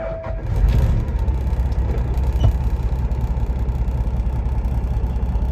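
A Peterbilt 389 glider truck with a 12.7 Detroit engine and 13-speed, freshly overhauled, idles steadily with a deep, continuous rumble heard up close and alone for several seconds.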